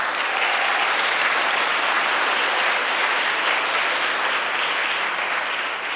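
Steady, dense clapping from a sizeable audience fills the hall at the European Charlemagne Youth Prize award ceremony in Aachen, an even wash of applause with no voices over it.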